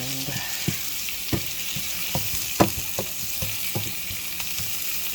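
Sliced onions seasoned with cracked black pepper toss in a hot pan, giving a steady close sizzle broken by regular spatula knocks and scrapes.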